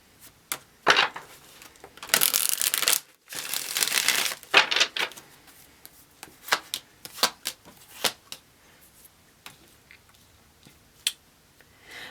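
Tarot cards are shuffled close by in bursts of riffling and slapping, with sharp taps and clicks in between and no voices.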